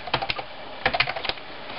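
Plastic keys clack on a Microsoft Sidewinder X4 gaming keyboard in two quick bursts of typing, close and fairly quiet, with no talk.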